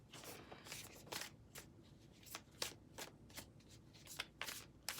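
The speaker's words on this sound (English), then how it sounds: "So let's shuffle for a minute." Tarot cards being shuffled by hand for a collective reading in Sedona, a quiet, close series of crisp riffles and slaps at an uneven rhythm, with no talking.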